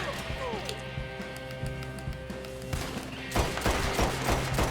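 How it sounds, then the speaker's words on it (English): Mauser pistols firing in Red Dead Redemption II, quick sharp shots at moderate loudness scattered through the clip, growing denser toward the end over a background of game ambience. "these Mauser pistols make quick work"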